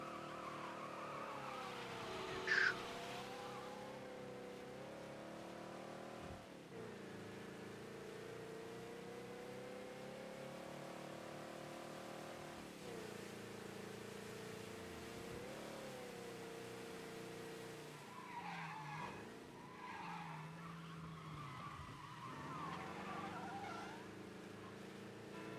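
A car in the Mafia Definitive Edition game drives on with a steady engine drone and repeated tire squeals and skids over the whole stretch, fairly even in level with no talk.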